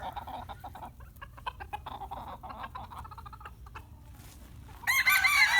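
Several roosters crow and hens cluck in a backyard flock with bachelor pens, the birds calling repeatedly at close range with a loud burst of crowing at the end.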